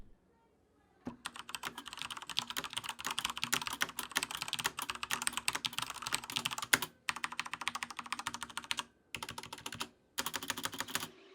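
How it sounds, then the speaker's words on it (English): Typing on a Thermaltake X1 RGB mechanical keyboard with Cherry MX Speed switches, a dense, steady stream of fast, close clacking keystrokes broken by a few brief pauses, alone without talk. "But of course, I wouldn't leave you guys without a sound test, so here's the X1 RGB with Cherry MX speeds."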